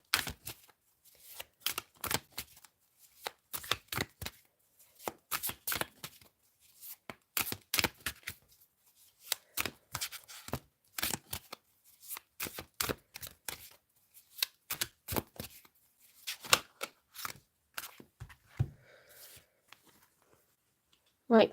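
Tarot cards are shuffled by hand for a three-card reading, a long run of quick, crisp riffling and slapping bursts with short pauses between, close and fairly quiet, with no talk over them.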